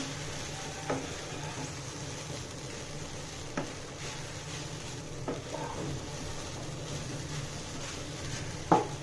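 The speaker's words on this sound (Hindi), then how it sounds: "अभी इसको एक तरीका हिलाते रहना है ताकि ये चिपके नहीं एक दूसरे से" Sago khichdi being stirred in a frying pan: a steady low sizzle runs throughout, with a few soft scrapes and taps of the spoon against the pan, close and quiet with no talking.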